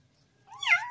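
A one-month-old kitten being bathed lets out a single short, high meow, close and fairly quiet, after a near-silent moment.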